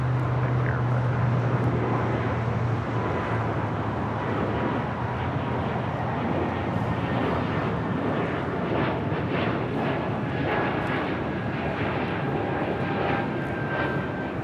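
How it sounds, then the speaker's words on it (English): Breeze Airways Airbus A220-300 taking off from runway 25 right at LAX, a steady, loud jet engine roar holding through the whole stretch with a faint tonal whine on top. "This is Breeze Airways 535 taking off to Richmond, Virginia on an A220-300."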